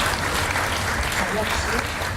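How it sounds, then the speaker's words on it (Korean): Dense, loud applause from an audience at a Yongin mayoral candidates' social welfare policy forum greets a candidate coming on stage, a steady roar of clapping throughout with some voices mixed in. "올라오실 때 박수로 격려해 주시면 감사하겠습니다."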